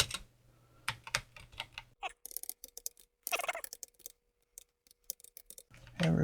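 Crisp, irregular key clicks on a PX-8 computer keyboard, close and isolated in short bursts and single taps with quiet gaps between them.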